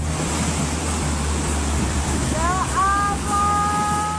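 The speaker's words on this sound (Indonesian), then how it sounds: "air dengan volume besar dan cukup deras menerjang bercampur lumpur ke pemukiman" A sudden flash flood of muddy water surges down the Paron river into a settlement in Batu, Malang, East Java, a constant loud roaring rush, with a person's voice briefly heard near the end.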